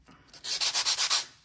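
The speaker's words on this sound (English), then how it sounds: "when you're filing and buffing, you want to make sure you're not doing it too much" Dip powder nails are filed and buffed, giving a quick run of six or seven rhythmic rasping strokes, close and crisp, after a softer lead-in, with no voices.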